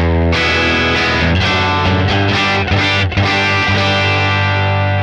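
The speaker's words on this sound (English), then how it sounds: "it's conjuring up old Voxish sorts of tones." Electric guitar through a Boss Katana 50 Gen3 amp set to a Vox-style tone, loud ringing chords with a slightly driven edge and chorus-like shimmer, struck several times and left to sustain, with no talking.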